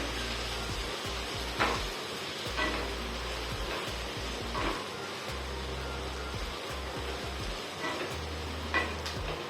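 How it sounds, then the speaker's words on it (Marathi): Okra sizzles in a hot pan as it is stir-fried for masala bhindi, with a soft, steady frying hiss and intermittent scrapes and clinks of a spatula turning the pieces. "परतवून घ्यायची चांगली"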